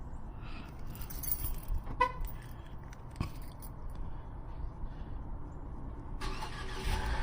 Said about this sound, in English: I always forget that I can warm up this car remotely.